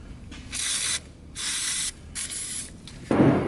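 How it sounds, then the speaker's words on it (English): WD-40 sprayed into an empty 2002 Honda CR250R motorcycle gas tank: three long aerosol hisses with short pauses, close and fairly loud, then a brief duller clunk at the end. "take some good old WD, and we'll spray it down in here in this tank"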